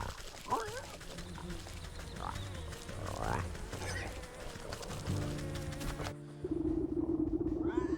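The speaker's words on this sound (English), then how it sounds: "You can hear the runty swine squealing even before you see her" A small pig squeals in a video game, with a few high, wavering cries rising over background game sound and music, followed by a steady tonal drone.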